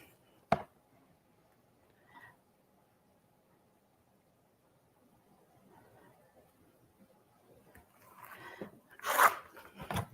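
A rotary cutter trims a fabric quilt block square to 8.5 inches: a sharp single cut near the start, then quiet scattered handling and rustling that build toward a loud burst of brushy fabric noise near the end.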